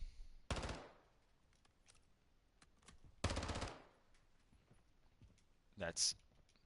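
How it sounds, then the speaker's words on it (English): Bursts of gunfire from a gun in Call of Duty DMZ, with two dense rapid-fire volleys about three seconds apart and a shorter burst at the end, over a quiet game background. "I'm actually able to start firing without waiting for that reload cycle to finalize."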